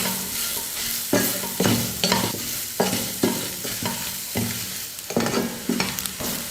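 Chopped onion is stirred and fried with potato pieces in a pan, a steady close sizzle broken by regular spatula scrapes and clacks about every half second.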